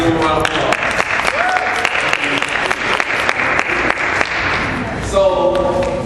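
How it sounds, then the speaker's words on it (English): An audience applauds steadily for several seconds, with a dense, even clatter of hands, and a voice rises over the clapping near the end. "give them a round of applause"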